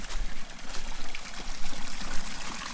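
Water flows through a concrete tube into a container that feeds a pond, a steady close trickling and splashing rush with an uneven, bubbling texture throughout.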